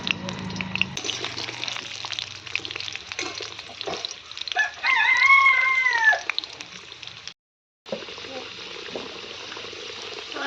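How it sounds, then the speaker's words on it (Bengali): Potatoes frying in very hot oil give a steady, close sizzle and crackle throughout, with someone talking over it and a brief cut to silence near the end. "তেল কড়া গরম হয়ে গিয়েছে। আগে আমি আলুগুলো ভেজে নেব।"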